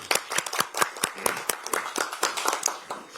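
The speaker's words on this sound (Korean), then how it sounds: "큰 박수를 부탁드리겠습니다" An audience claps at a political party's talent recruitment ceremony, welcoming new recruits Ha Jung-woo and Jeon Eun-soo. The applause is a dense, steady patter of many hands, sharp and even, filling the room without pause and with no talk over it.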